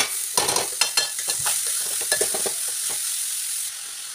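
Grated carrot and onion get stirred through oil in a pan, with a soft hiss under a run of spatula scrapes that thins toward the end, and no talking.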